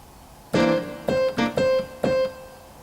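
Blues piano with the left hand playing chords instead of a bass line, five struck chords in a loose, syncopated rhythm, close and clear, each ringing briefly before the next.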